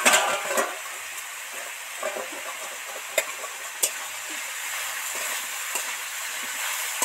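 Vegetables frying in oil in a pan, with figs among them: a steady close sizzle throughout, broken by a few sharp clicks and scrapes of stirring.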